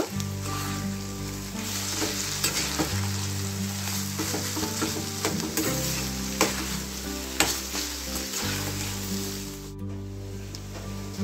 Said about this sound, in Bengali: সর্ষে পোস্তটা দিয়ে ভালো করে মিশিয়ে নেব।